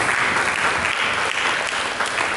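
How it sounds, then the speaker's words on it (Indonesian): A church congregation applauds in a loud, continuous wash of clapping with no break and no voices over it. "Mari kita berikan tepuk tangan bagi Yesus."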